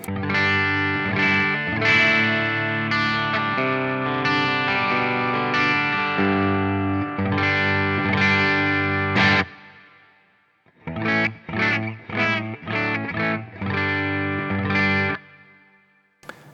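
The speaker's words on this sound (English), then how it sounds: "here's the clean plexi sound" A clean electric guitar through a Plexi amp tone plays sustained chords with a warm tone and light reverb, then a pause followed by shorter strummed chords.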